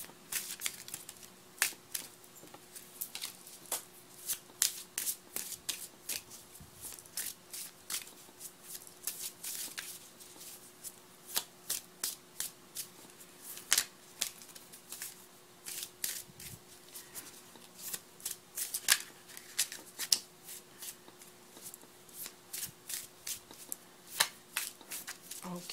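Tarot cards are shuffled by hand over a long stretch, making quick, soft riffling bursts and papery flicks in an uneven rhythm, close to the listener with quiet room tone between bursts.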